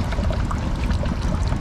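Coconut water gushing out of an extraction machine, a loud close splashing pour that runs without pause.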